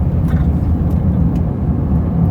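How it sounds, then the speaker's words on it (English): A car accelerates up a highway on-ramp after downshifting to third gear, giving a steady, loud low engine drone with road rumble throughout and no distinct shift event, heard from inside the cabin. "Downshift to third."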